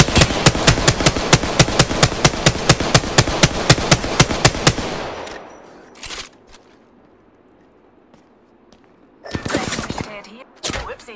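Rapid automatic gunfire in the battle-royale shooter Apex Legends: a steady burst of about twenty loud, evenly spaced shots over five seconds, then a quiet lull broken by a few more isolated sharp shots and a short flurry near the end.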